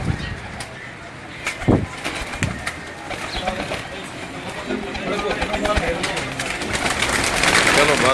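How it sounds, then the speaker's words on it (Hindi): Pigeons coo at an ustad's loft in Gujranwala, including a big prized bird, low soft calls repeating over a busy background with people talking nearby and a few sharp knocks. "ये जो कबूतर आप देख रहे हैं, ये बड़ा कबूतर है इनका"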